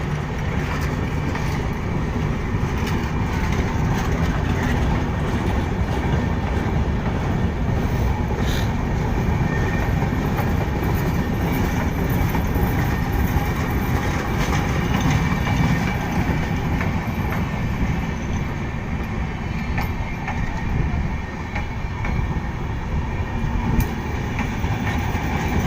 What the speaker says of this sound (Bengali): 4:17 ডিপার্চার নিল আন্তনগর মধুমতি এক্সপ্রেস।